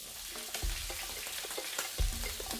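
Steady, dense sizzling of a whole fish frying in hot oil for sweet and sour fish, close and continuous, with a couple of low thumps.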